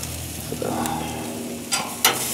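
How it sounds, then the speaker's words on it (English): Frozen sausages sizzle on a hot BBQ grill, a steady broadband hiss throughout with a few short clicks and scrapes from tongs turning them. "Let's flip these sausages over. These are frozen."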